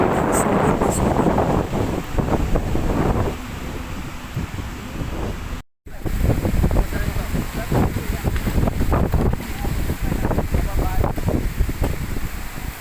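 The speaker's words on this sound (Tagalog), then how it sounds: "ayan, napakalakas ng hangin" Strong wind at a white-sand beach campsite in Casiguran buffets the microphone in loud, gusty bursts, with a brief cut partway and voices faintly under the roar.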